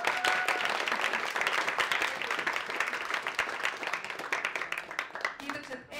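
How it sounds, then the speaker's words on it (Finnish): Steady, dense applause from an audience at an event held in the National Theatre, sustained at an even level for several seconds before starting to fade at the end. "Aplodit Outille"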